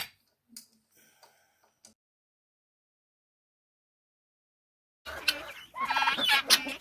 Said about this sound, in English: here's our turkeys. We got guineas in there too.